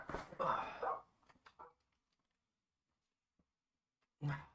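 Dogs at a home give a few short barks and yips, a cluster at the start, then silence and one more sudden bark at the end, fairly faint overall.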